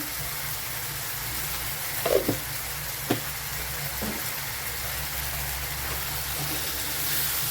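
Leafy greens (shaak) frying in a pan, with a steady soft sizzle throughout and a few clinks of stirring and scraping near the middle, no talking.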